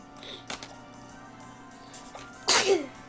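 A single loud, close sneeze bursts out near the end, preceded by some faint rustling and background noise.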